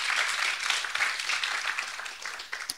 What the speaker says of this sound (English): please give a round of applause to Anas